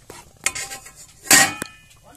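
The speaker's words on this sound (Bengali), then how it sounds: "দিয়ে দেবো লেবুর খোসা, দিয়ে উপর থেকে ঢাকনা দিয়ে দেবো।" Metal clanks and clinks as a lid goes onto a pot of boiling lemon peels on a village kitchen stove, a few short sharp knocks, the loudest about midway, close by.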